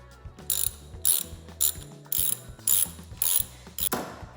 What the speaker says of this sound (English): Then I'm gonna put my other bolt on and tighten her down.